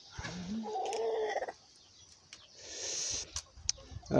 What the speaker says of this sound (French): on a les poules qui mangent